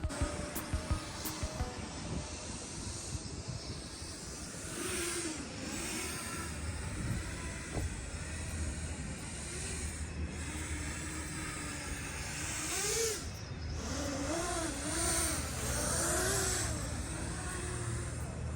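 A 7-inch or 5-inch FPV stealth drone on a test flight gives a continuous motor whine that rises and falls with throttle changes, sometimes near and sometimes farther off, with no talk.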